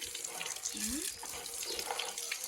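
Steady water spraying and splashing while a red scooter is washed outdoors in a village, a constant hiss with faint voices talking underneath.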